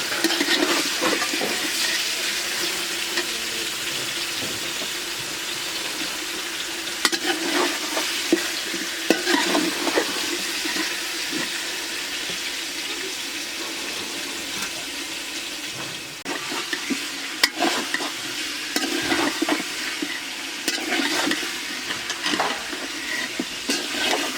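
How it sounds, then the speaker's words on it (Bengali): Meat fries in a pan with a continuous crackling sizzle, punctuated by scraping stirs and clinks throughout, moderately close and without talk. "মাংসটা একটু ভাজা ভাজা হয়ে গেছে"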